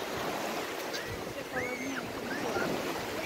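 Big sea waves roll onto a beach at the PapaDeMore complex on the Arabat Spit, making a continuous broad wash of surf. Faint wind and distant voices sit underneath.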